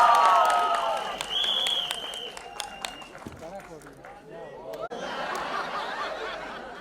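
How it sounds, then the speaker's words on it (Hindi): A crowd at a film trailer launch claps and cheers in a dense, lively burst, with a whistle at the start. Then the noise thins as someone talks over it, and the applause swells again near the end. "ताली बजाते रहो, सीटी बजाते रहो भाई"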